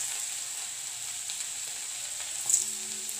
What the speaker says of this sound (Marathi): लोखंडी तव्यात खूप छान तळला जात आहे